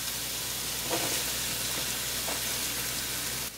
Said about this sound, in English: now we're going to saute our onion until they get nicely browned